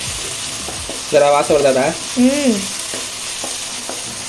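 Ginger garlic paste and onions sizzle steadily in a pan while chicken is cooked, a constant close frying hiss with someone talking over it partway through.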